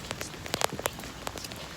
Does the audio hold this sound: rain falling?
yes